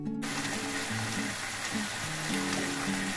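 Chicken pieces hitting hot oil and spiced tomato masala for chicken darbari give a steady, close, broadband sizzle of frying that holds for a few seconds, with faint low clatter underneath.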